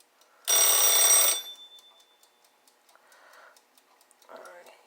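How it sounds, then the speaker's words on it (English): Kitchen timer ticking in a home kitchen, a steady run of crisp, evenly paced ticks after a loud harsh burst near the start, with faint softer sounds between the ticks. "as soon as that dings, which should be any second now, which I think this timer runs about 8 seconds long"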